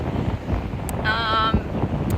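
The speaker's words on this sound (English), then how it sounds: "It is so windy here today." Steady wind rushes and buffets against the microphone, a loud, rough roar with a brief whistling tone in the middle; no voices.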